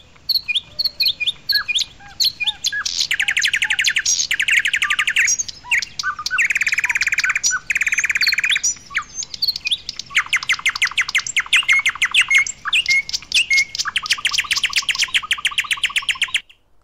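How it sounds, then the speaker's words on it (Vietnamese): Several birds chirp and trill in a long, busy song, with rapid repeated notes in bursts and short pauses, clear and close, with no talking. "Các chú chim đã hót một khúc ca rất hay để cảm ơn các em đã giúp các bạn tìm lại nhà"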